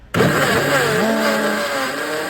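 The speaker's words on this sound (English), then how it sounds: "Threw them in a blender with a tiny bit of water." A blender filled with berries, including blackberries, and a little distilled water switches on abruptly and runs as a loud, steady motor whine that shifts pitch slightly as it blends.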